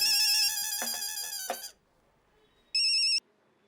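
An electronic phone ringtone plays a bright melodic pattern, stops, then sounds one more short burst after a pause.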